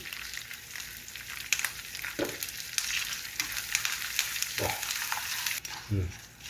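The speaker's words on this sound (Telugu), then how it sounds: "పోపులు వేడెక్కినాక కొన్ని కరివేపాకు వేసుకోవాలి అలాగే ఇంగువ గుమ్మగుమ్మలాడుతుంది" Mustard-type tempering spices, asafoetida and curry leaves crackle and sizzle in hot oil, a continuous close frying hiss with occasional stirring scrapes and clinks.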